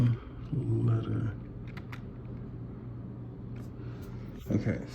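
Quick, light clicks of typing on a computer keyboard come in short bursts, close and fairly quiet, over a low background hum with some brief voice-like sounds.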